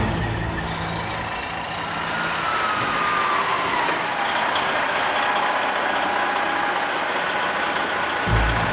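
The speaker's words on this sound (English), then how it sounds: "Trucks are weighed as they enter and leave the yard" A heavy truck idles on the weighing scale at Milan Lumber Company's yard, a steady loud diesel rumble with faint higher tones drifting in and a slight bump near the end.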